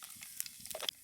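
Whole cumin seeds and two bay leaves crackle and sizzle briefly in hot oil in a kadai, a short, faint burst of spitting pops.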